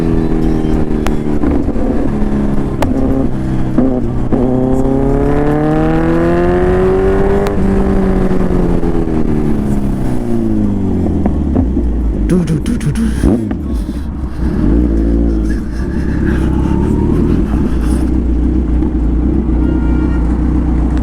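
Yamaha R1 motorcycle revving hard with sweeping engine pitch rises and falls, exhaust crackle and pops on the overrun, loud and close with no talk.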